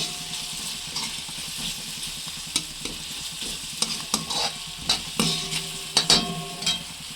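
Chopped onions and tomatoes stir-fry in a pan for a peas chaat, with a steady sizzle broken by irregular, fairly close spatula scrapes and clacks that grow louder toward the end.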